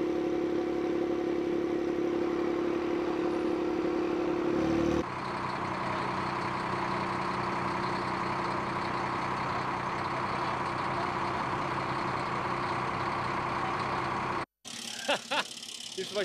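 A Dakar rally race truck's engine rumbles steadily and loudly at close range, its note shifting slightly partway through, then cutting out abruptly near the end before a short burst of other noise.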